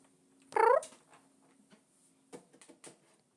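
A cat lets out one loud, close, drawn-out meow, followed by a few faint scuffling noises in an otherwise quiet room.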